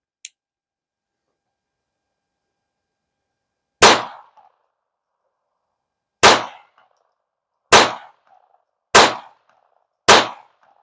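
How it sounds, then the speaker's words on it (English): Five sharp unsuppressed gunshots from CCI Standard ammunition crack out after a moment of quiet, the first two spaced a few seconds apart, then three in quicker succession, each loud and close with a short ringing tail. "we're going to do 5 rounds unsuppressed of the CCI"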